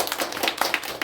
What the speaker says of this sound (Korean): 오신 분 환영하는 마음으로 박수로 환영해 드립니다.